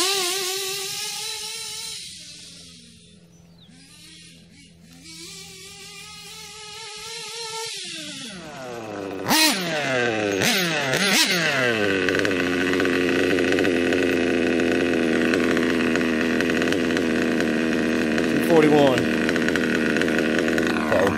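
A Kyosho KE25 RC nitro engine idles during heat-cycle break-in, its steady buzzing drone running close and loud throughout after a short stretch of lower, shifting revs.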